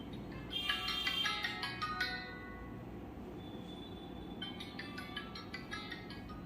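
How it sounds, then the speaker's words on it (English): A Poco M2 Pro phone plays a short melodic ringtone, quiet bright chiming notes in a quick run that fades, followed by a fainter repeat of the tones. "I will select this ringtone."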